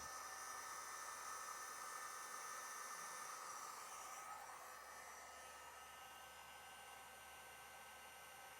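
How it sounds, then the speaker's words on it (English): A heat gun blows steadily while shrinking heat-shrink tubing on trailer wiring for a brake controller kit, giving a continuous even hissing whoosh with a faint whine, close and unbroken throughout. "And now we can come back with our heat gun and shrink those down."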